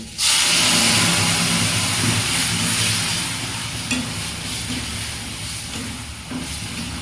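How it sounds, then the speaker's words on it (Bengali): Lentils poured into a hot pan set off a sudden loud hissing sizzle that holds steady and slowly eases off over several seconds, close and alone with no talk. "এখন আমি ডালটাকে ঢেলে দিয়ে দেবো"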